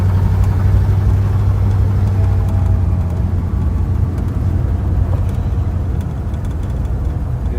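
A 1956 Ford Thunderbird convertible with a 312ci V8 runs steadily as it is taken through the gears, a loud continuous engine drone with a deep low rumble that holds for the whole stretch and fades slightly toward the end.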